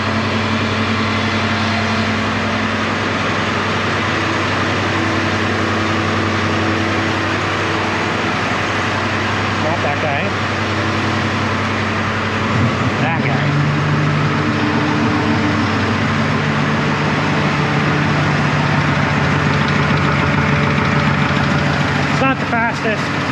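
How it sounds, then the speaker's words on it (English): An air compressor engine on a fuel trailer runs with a steady, loud idling drone throughout, a constant low rumble with slight shifts in pitch midway and no break. "the air compressor works"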